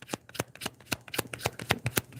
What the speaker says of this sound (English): it could be the way I'm shuffling too.